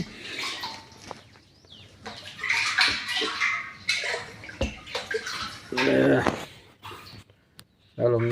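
Water from a storage container pours into a bottle, rising and gurgling in bursts, with people talking in between.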